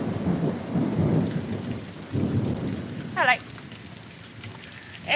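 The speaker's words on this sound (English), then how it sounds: "Just closer so I can hear the thunder right off the bat." Thunder rumbles through a severe thunderstorm, with steady rain noise and broad low booming rolls in the first two seconds, then a softer rumble, while a brief chirping sound cuts in around the middle.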